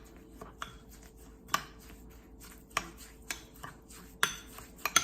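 Za'atar mixture is stirred with olive oil in a bowl for manakeesh, irregular clinks and scrapes of a spoon against the bowl with quiet gaps between strokes.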